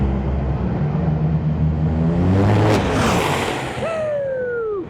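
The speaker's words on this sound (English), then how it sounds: "Funny car versus Top Fuel." A Funny Car and a Top Fuel dragster launch in a drag race, a loud rumbling roar that swells and passes, with a whining tone sweeping down near the end.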